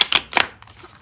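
A Buffy the Vampire Slayer tarot deck is shuffled by hand, cards giving three quick papery riffling bursts up close, then fading into quiet handling.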